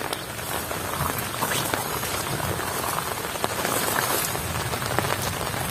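Rain falls steadily on a nearby surface, a constant hiss with scattered heavier drops, no speech.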